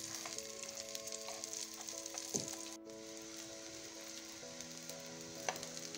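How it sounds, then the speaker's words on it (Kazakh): Dough envelopes filled with green onion frying in oil, a soft steady sizzle that runs throughout with a few light clicks, under a faint, sustained tonal hum. "екі жағы осылай видеодағыдай қызарғанша жақсылап қуырып аламыз"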